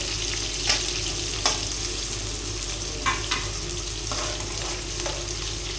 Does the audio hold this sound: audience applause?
no